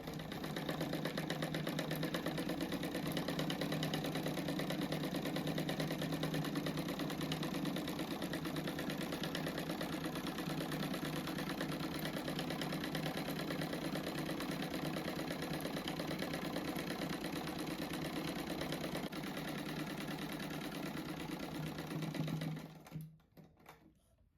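A sewing machine runs continuously and up close, stitching a cushion along its marked line with a fast, even drone that stops abruptly near the end, leaving near silence.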